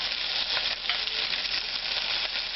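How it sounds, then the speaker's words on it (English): Oxtail pieces browning in oil in a hot pan, a steady, dense sizzle that crackles continuously up close with no voices. "You want a hot pan. Get them brown."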